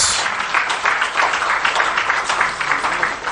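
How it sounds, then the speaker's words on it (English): A crowd at a public budget forum gives a presenter a steady round of applause, dense and fairly loud from start to finish. "Please, let's give him another round of applause."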